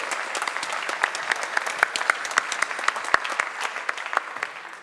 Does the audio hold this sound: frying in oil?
no